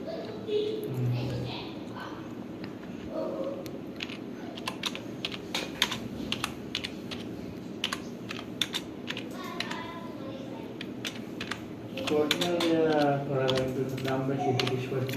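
Computer keyboard keys clatter in quick, irregular bursts as a question is typed, with a person speaking over the clicking throughout.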